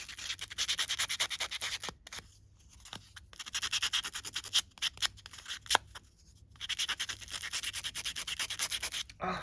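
Green paper tab edges are distressed for a junk journal with rapid, rhythmic scraping and rubbing strokes, close and crisp, coming in bursts separated by short pauses.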